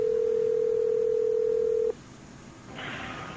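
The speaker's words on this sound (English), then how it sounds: "Let's dial in Keisha as well" A telephone line calls a participant into a conference call. A steady dial tone holds for about two seconds, then cuts off into a quiet line hiss, followed by a burst of faint static.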